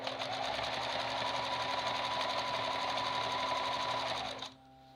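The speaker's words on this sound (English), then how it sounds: "I'm going to sew the tape onto all the edges except the top edge," A sewing machine runs steadily, stitching tape onto the edges of a piece of fabric, with a continuous close whir that stops abruptly near the end, leaving a quiet hum.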